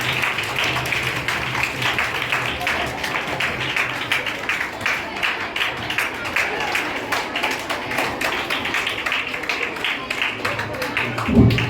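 Audience applause fills a Teachers' Day programme at a college in Gonda, dense, continuous clapping at moderate level running steadily throughout, with a voice speaking intermittently over it and a brief louder thump at the end.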